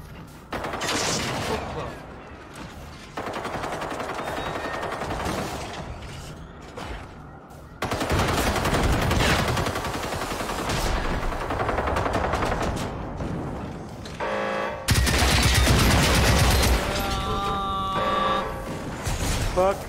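Loud, sustained automatic gunfire from the Generation Zero video game comes in long bursts separated by brief gaps, with a voice talking over parts of it.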